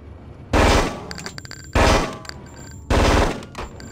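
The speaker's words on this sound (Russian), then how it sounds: "Мне надо стрелять. Прям очередями, что ли?" Three loud, close bursts of automatic gunfire from a submachine gun in the PC game Hitman: Codename 47, each a rapid rattling volley of about half a second, separated by short pauses.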